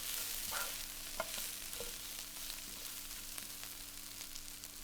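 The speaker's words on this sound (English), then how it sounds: "Stir together and cook for a further 1 to 2 minutes to heat that bacon through" Bacon and potatoes sizzle in a pan as they are stirred, a steady fry with scattered scrapes and clicks of the utensil against the pan. The sound runs throughout at a moderate level, with no voices.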